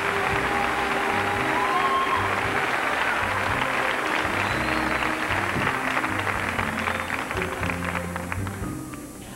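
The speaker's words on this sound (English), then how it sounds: "let's give the all 10 a big round of applause" Audience at the 1990 Miss Oklahoma pageant gives a big round of applause, sustained clapping with some cheering over a sustained musical accompaniment, gradually tapering toward the end.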